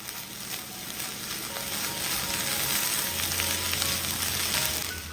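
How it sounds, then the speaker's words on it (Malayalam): Curry with coriander leaves stirred in a hot pan, a continuous soft sizzle that swells slightly, with no voices. "ഇനി ഒന്ന് ഇളക്കി കൊടുക്കാം."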